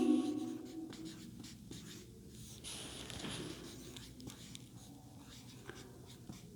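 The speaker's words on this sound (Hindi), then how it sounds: "यहाँ लिख देती हूँ मैं" Chalk or marker writing on a board during an economics lecture, a steady scratchy stroking that runs close and moderately loud for several seconds, with no talk over it.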